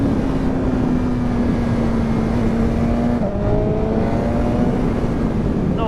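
A 2019 BMW S1000RR sport motorcycle with carbon fiber wheels ridden at steady speed, its engine droning loud and constant under heavy wind rush, pitch dipping briefly mid-ride.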